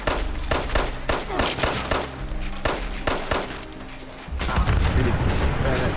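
Rapid, close gunfire in Fallout 76 fills the moment, a dense string of sharp shots in quick succession followed by a louder rushing blast near the end, with a voice faintly underneath.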